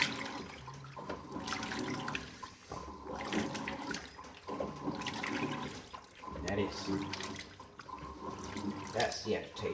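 A Simpson 8.5kg washing machine nearly full of clothes agitates them in water, churning and sloshing in repeated rhythmic surges.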